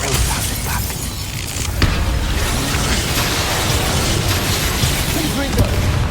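Confringo and Bombarda blasting spells in Hogwarts Legacy, a dense barrage of booming bursts and crackling impacts over continuous battle noise, loud and close, with voices mixed in.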